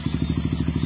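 A Honda XR 200 motorcycle's starter cranks the engine: a fast, even train of low, throbbing pulses with mechanical clatter, steady and close for about a second, with no voices.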